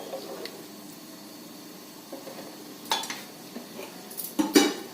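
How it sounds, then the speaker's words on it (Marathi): Rice is stirred into a green peas pulao mixture inside a pressure cooker, giving soft scraping and a few sharp metallic clinks of a spoon against the pot, close by and fairly quiet. "तांदूळ घातल्यानंतर सर्व मिश्रण एकदा छान एकत्र करायचं"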